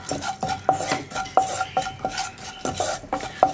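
A spoon stirs spice powders heating in a pan over a low flame for egg roast, making quick repeated scraping clinks against the metal, close and fairly loud, with no voices.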